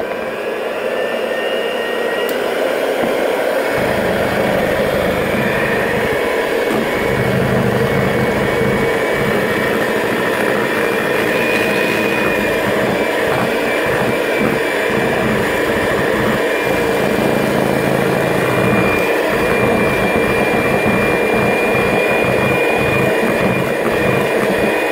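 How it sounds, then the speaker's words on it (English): Eggs being whisked into gluten-free cherry brownie batter, heard as a loud, steady motor whir that runs unbroken throughout with no talking. "you could give it a whisk for 3 to 4 minutes until it is pale and fluffy."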